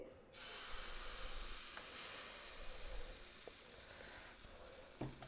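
Potato and semolina batter sizzles steadily in a hot pan over a medium flame, a continuous close frying hiss that starts abruptly and holds throughout, with a few faint clicks of a spoon.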